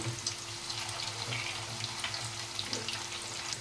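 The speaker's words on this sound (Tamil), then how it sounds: "இப்போ இன்னொரு பக்கம் ஆயிலில் நல்லா ஃப்ரை ஆகி வரட்டும்" Snacks made from flattened rice and potato frying in oil, heard as a soft continuous bubbling sizzle with a faint steady hum behind it and no voices.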